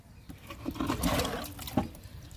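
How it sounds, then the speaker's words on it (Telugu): Water poured from above onto soil in garden tubs freshly sown with four kinds of gourd seeds, including bitter gourd, the tubs filled with kitchen waste, garden waste and earth; a steady close splashing trickle swells in the middle, with no talk. "ఈ 4 రకాలకి వాటర్ ఇస్తున్నా"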